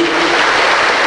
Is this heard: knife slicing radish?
no